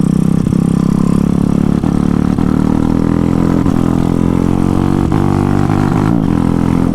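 A Zongshen 212cc engine swapped into a Honda MSX motorcycle runs loud and continuous at high revs, close up, poorly tuned, with a steady buzzing drone and slight fluctuations in pitch.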